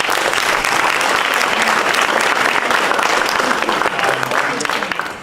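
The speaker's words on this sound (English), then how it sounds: "So give yourselves a round of applause." A large audience applauds steadily, dense clapping sustained throughout and fading slightly at the end.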